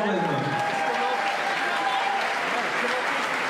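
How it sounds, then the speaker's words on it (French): An audience at a beauty pageant evening applauds steadily, a dense, even wash of clapping throughout with no voices standing out. "on peut effectivement les applaudir"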